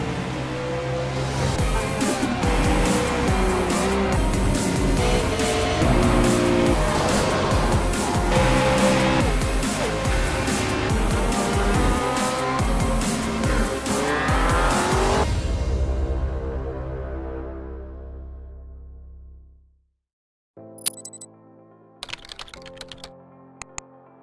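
Sim race cars, VW Beetles and Ford Fiestas in an iRacing winter series, roar together in a dense, loud engine blend with rising and falling pitch, then fade to silence, followed by a few scattered sharp clicks.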